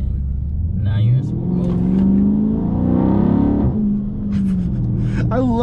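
A 2018 Dodge Charger Scat Pack engine revs up and holds a loud, close, rising roar, then drops back to a steady rumble, with a voice talking over it.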